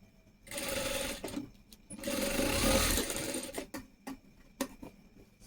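A sewing machine stitches a hook strip onto a blouse. It runs in fast mechanical bursts of a second or so, with short pauses and light clicks between runs.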